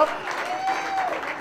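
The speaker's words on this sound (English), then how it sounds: "let's give them a big round of applause" A crowd at a reception for ski racers claps in a steady, dense round of applause, close and continuous for a moment, with a voice briefly audible over it.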